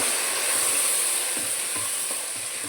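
White brinjal curry with turmeric is stirred in a frying pan, a steady loud sizzle with soft scraping strokes of the spoon running underneath throughout.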